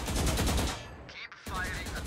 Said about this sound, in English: fire a full magazine into the target